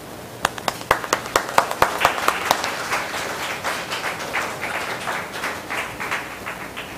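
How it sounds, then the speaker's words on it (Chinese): Church congregation at a Sunday service clapping hands, starting with a few loud distinct claps that quickly swell into sustained, fairly close applause from many people. "好，来我们拍手。"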